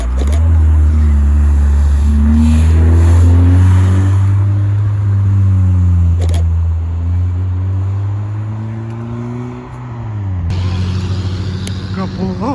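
An Ariel Atom sports car arrives at a supercar meet in thick fog, its engine droning loud and close with rising and falling revs and a gear change near the end, while onlookers talk.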